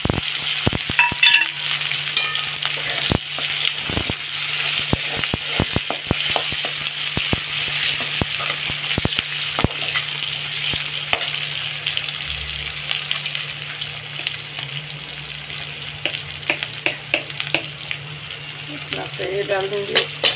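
Chopped onion and chili sizzle and fry in a pan in a home kitchen, a steady close hiss with scattered stirring clicks and scrapes throughout, fairly loud, with no clear talk.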